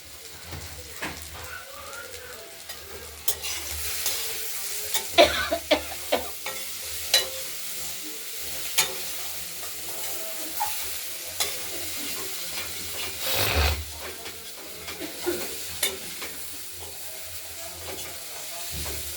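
Flat beans and sweet potato are stir-fried in oil in a wok, with a continuous close sizzle and hiss broken by repeated scraping and knocking strokes of the spatula.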